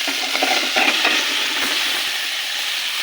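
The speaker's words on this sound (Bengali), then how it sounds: "সবজিগুলো এখন আমি সুন্দরভাবে কষায় নেব" Mixed vegetables sautéing in a pan alongside fried pumpkin lentil dumplings, a steady sizzle broken by stirring clatters and spatula scrapes in the first half before settling into an even hiss.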